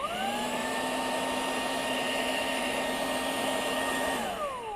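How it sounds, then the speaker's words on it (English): Ryobi 18V mid-size spot cleaner vacuum running on battery power, a loud steady whine with a constant motor tone that holds evenly, then winds down near the end. "obviously the power button turns on the vacuum"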